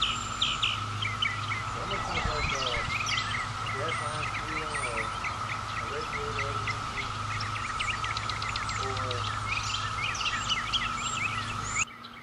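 Birds chirp outdoors in Virginia, with many small tweets and calls scattered throughout over a steady droning hum.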